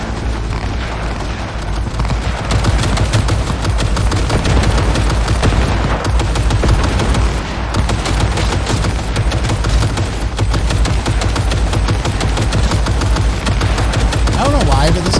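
Dense, continuous gunfire and booming blasts from a Cyberpunk 2077 firefight, loud and sustained throughout with rapid overlapping shots and game effects, while a voice talks over the action.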